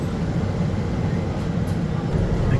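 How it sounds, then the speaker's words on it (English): Low rumbling and rattling of a W class tram nearby, a steady heavy rolling noise with faint higher squeaks. "One of the W class trams there, just coming into view."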